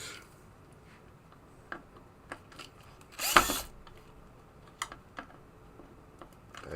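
Power drill backing screws out of a Gottlieb Hit the Deck pinball machine during a teardown, one short loud whirring burst in the middle with scattered light clicks and taps around it.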